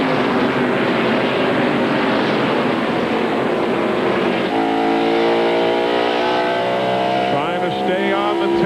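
NASCAR race cars roar around the track at Phoenix in 1997, a loud continuous engine drone with a pitch shift as cars pass, under a commentator's voice.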